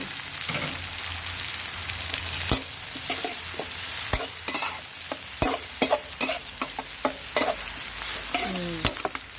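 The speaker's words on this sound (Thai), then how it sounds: "ไม่ต้องใช้ไฟแรงนะคะ ผัดให้หอมเลย" Chili and garlic stir-fry in oil over low heat in a small wok, the start of a canned fish and kale dish. A spatula scrapes in uneven strokes over a steady, close sizzle, with no talking.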